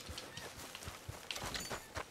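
Horse hooves galloping in Red Dead Redemption 2, a steady rhythmic clip-clop of hoofbeats heard faintly and continuously with no talk.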